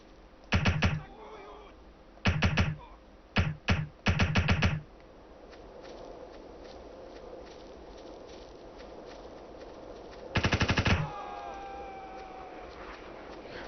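Suppressing automatic gunfire in the Ghost Recon video game: several short loud bursts early on, then a longer burst around ten seconds, separated by quiet ambient background.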